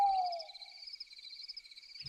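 A thin, continuous high-pitched trill of Minecraft crickets at night drones steadily, quiet and alone after a brief falling tone at the start.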